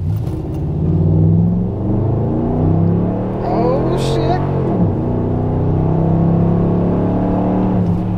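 A 2012 Ram 1500 4x4 crew cab pickup with a performance tune and MDS turned off revs and roars steadily in a 0-60 run, rising in pitch through gear changes, with a brief exclamation from a voice partway through.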